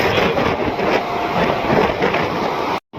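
Loud rumbling rush of a train running on tracks nearby through fields on the way to Madurai, a steady roar that cuts off abruptly near the end.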